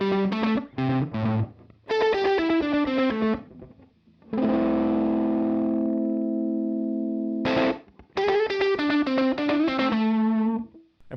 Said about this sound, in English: start with the volume down a bit so you can kind of hear just the delay